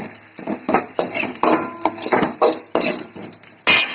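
Ground paste being mixed into semiya biriyani in a pan, a close run of repeated scraping and clattering spoon strokes against metal at an uneven rhythm, loud and alone.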